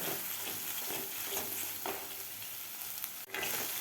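Ginger-garlic paste with green chillies sautéing over medium heat for chickpea masala, a continuous dense sizzle close by, with faint spatula scrapes and a brief clatter near the end.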